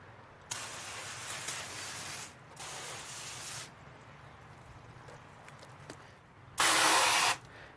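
Bursts of water spray rinse cleaner off car trim, in three separate hissing passes of a few seconds each, the last one louder and closer, with quiet pauses in between.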